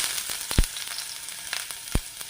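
Ginger pieces dropped into hot ghee in a pan give off a close, steady sizzle, with a few sharp crackling pops standing out above the frying hiss.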